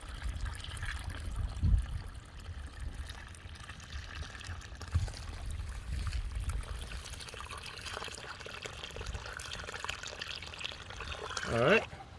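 Water is poured into a planting hole around a newly planted fruit tree, a low steady gushing and trickling close by, with someone speaking over it intermittently.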